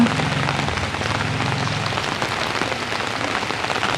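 Steady rain pouring down onto a surface, a dense continuous patter that stays loud and even throughout, with a brief low murmur at the start.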